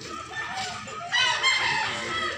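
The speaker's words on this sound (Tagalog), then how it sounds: "Ang manok." A rooster crows at a Consolacion, Cebu chicken market, its loud harmonic call rising in two long surges over a busy, crowded background of other fowl.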